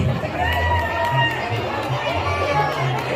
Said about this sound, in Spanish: Fuertes los aplausos, fuertes los aplausos.